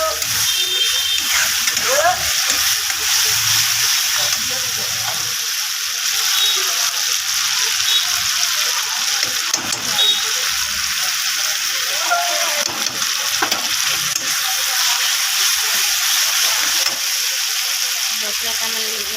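Ginger garlic paste frying in hot oil for a rohu fish and eggplant curry, giving a loud, steady sizzle that hisses continuously throughout, with occasional faint stirring.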